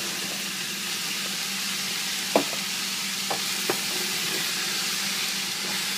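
Sliced mushrooms frying over medium-high heat in a pan, a steady close sizzle with a few brief knocks of stirring scattered through, no voices.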